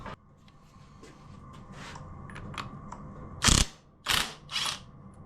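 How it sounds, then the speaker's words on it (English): An air impact gun (zip gun) loosens engine bolts: after some quiet mechanical clicks and handling, it fires three short, loud rattling bursts close by in quick succession. "I might get my zip gun on that, it'll sort of shock it off."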